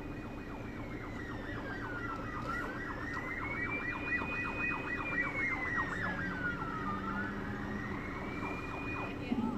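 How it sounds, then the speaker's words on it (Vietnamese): A fire truck siren wails in a slow rising and falling sweep, close and loud, with a faster warbling pattern layered over it above steady traffic and engine rumble on a street in Australia. "xe cứu hỏa đang chạy vào."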